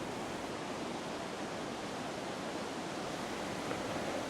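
Nõmmeveski waterfall in Lahemaa National Park, Estonia, roars steadily as rushing water pours over the falls, a dense, even, continuous wash of noise with no voices.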